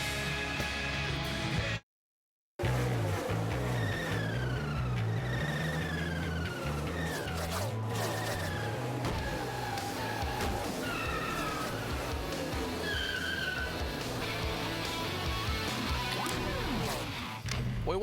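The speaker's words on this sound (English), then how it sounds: "The engines have fired and the cars are just getting set to roll now behind the pace car." NASCAR Sprint Cup stock cars idling and revving at Pocono Raceway before rolling off behind the pace car in the 2008 Pennsylvania 500, a loud sustained engine roar with rising and falling pitch sweeps and a brief dropout early on.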